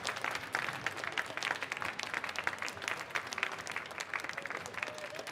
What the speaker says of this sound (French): Tour d'applaudissements pour Romain